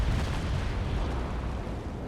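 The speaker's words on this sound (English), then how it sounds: "Broadside to broadside with his cannons." Cannons of a sailing warship fire a broadside in the Naval Action game. The shots blur into a dense, loud, continuous rumbling roar that holds heavy low-end boom throughout, with no talk.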